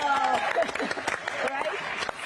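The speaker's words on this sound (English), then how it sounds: "I think we can clap to that" An audience at the NASA DART mission post-impact news briefing breaks into a short burst of clapping, close and fairly loud, with voices talking over it.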